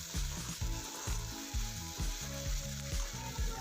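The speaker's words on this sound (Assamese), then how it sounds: "এতিয়া মই এইখিনি ভালদৰে লৰাই লৈ ভাজি লম" Curry ingredients for alu matar paneer frying in a pan while being stirred. A bright, continuous sizzle is broken by regular scraping strokes of the spoon, roughly two per second, close and with no talking.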